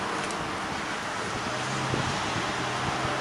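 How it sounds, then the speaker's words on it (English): Strong wind blows steadily outdoors at a campsite, a loud, continuous roaring rush buffeting the microphone with no let-up across the whole stretch. "It's a powerful wind out here, man."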